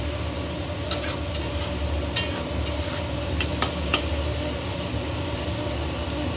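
A fish mixture seasoned with salt and turmeric stirred in a hot pan, a continuous sizzle with intermittent sharp scrapes of the utensil against the pan over a low background hum.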